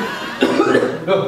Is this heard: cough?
yes